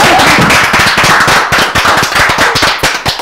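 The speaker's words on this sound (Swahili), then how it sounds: "Makofi mega." Loud, rapid clapping from an audience during a Kikuyu-language show, dense overlapping hand claps that continue without pause and sound close.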